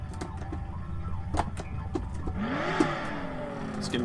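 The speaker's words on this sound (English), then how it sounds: "Just getting a sense of the engine sound so I can turn it up a bit." A car engine in the video game Mafia fires up and revs with rising, sweeping pitch over a steady low rumble, fairly close and loud, with a few sharp clicks and knocks scattered through.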